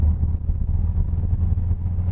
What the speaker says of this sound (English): The exhaust has got a nice little rumble to it.